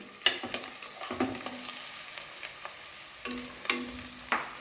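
Cashews go into a vegetable biryani pot and are stirred, with a close sizzle of frying under irregular clattering spoon strikes and scrapes against the metal pot.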